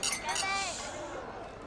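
Glasses clink together in a celebratory toast at a restaurant table, giving a bright ringing chime that decays over about a second amid background voices.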